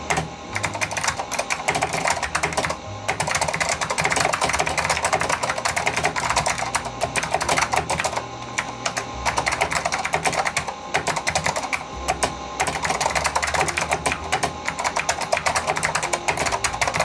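Steady, rapid keystrokes on a Sanyo MBC-16 Plus vintage computer keyboard, close and continuous for the whole stretch with brief pauses between bursts, clicking loudly over faint background noise.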